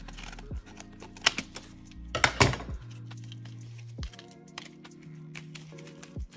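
Packaging for a PS Vita and a SanDisk 256 gigabyte micro SD card being opened up close: sharp clicks, crinkles and plastic snaps come in irregular bursts over a steady low electronic hum.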